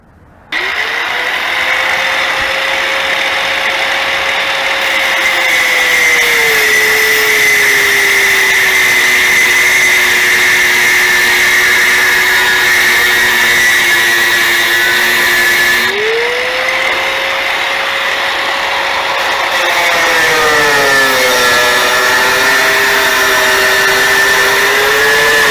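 An electric angle grinder works rusty floor metal on a Jeep Comanche, a loud steady high whine that dips in pitch as it bites under load, then spins back up, running continuously for a long stretch.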